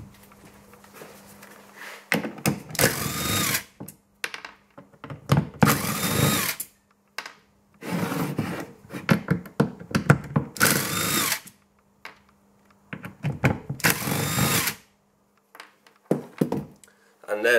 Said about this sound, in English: So the first step, remove the 4 T15 Torx.